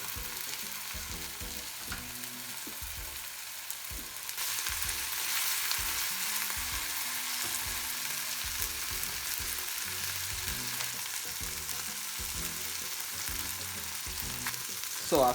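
Miso-marinated chicken fries skin side down in a pan with a steady broad sizzle throughout, louder after the first few seconds, broken by low knocks and scrapes from the pan with no talking.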